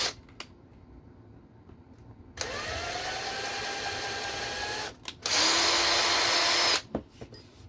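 A power drill opening up tight holes in a Losi 22S RC car part, two loud sustained whirring bursts with pitch shifts, separated by brief pauses and handling clicks.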